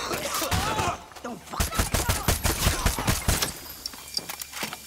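Rapid bursts of gunfire with headshot hits in the video game Far Cry 6, a dense run of sharp close shots clustered through the middle, with brief talk near the start.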